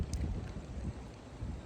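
Strong wind blows outside in the USA, a continuous gusty roar buffeting the microphone with heavy low rumble and no talking.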